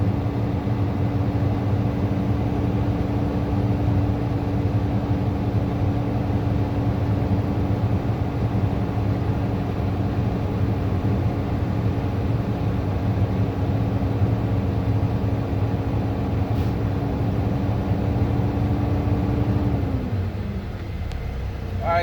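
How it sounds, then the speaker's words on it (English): Heavy truck engine held steady at roughly 1200–1500 RPM to build brake air pressure, a continuous loud drone with a fixed engine tone for about twenty seconds before the revs drop away near the end. "we're going to hold our RPM between 12 and 1500 RPMs"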